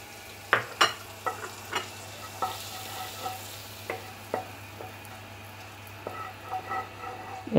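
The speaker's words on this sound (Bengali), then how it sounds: "আমি দিয়ে দেব গোটা জিরে ফোড়নে।" Whole cumin seeds fry in hot oil in a pan, a soft steady sizzle broken by a string of sharp clinks and scrapes from stirring, with no talking.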